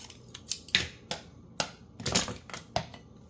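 Scissors snipping through paper scraps for a craft ephemera piece, a series of short crisp cuts spaced irregularly, close and fairly quiet with no talking.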